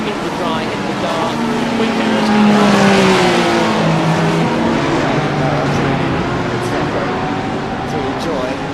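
GT race cars at Watkins Glen in the iRacing sim, with steady loud engines droning and shifting pitch as they pass, sitting under continuous commentary.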